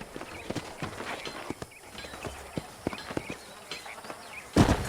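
Horse hooves clip-clop steadily in the Red Dead Redemption video game, near Armadillo, with a regular walking rhythm that runs for the whole stretch under a faint ambient bed and ends in a louder thump.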